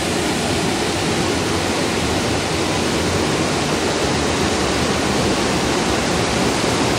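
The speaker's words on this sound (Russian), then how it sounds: "Заехали на маленький водопадик." A small waterfall rushes with a steady, dense broadband roar, close and continuous throughout without pauses or voices.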